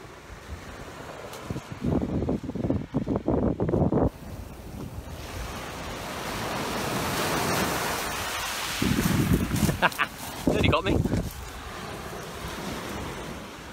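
Sea waves breaking along the Orange Blossom Coast, loud close surf with bursts of wind rumble on the microphone, crashes swelling around four and ten seconds over a constant watery roar.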